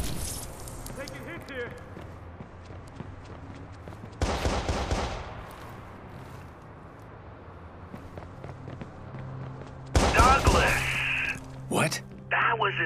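Gunfire in the game Watch Dogs cracks out in two loud bursts, one around the middle and another near the end, over quiet game ambience, with people talking.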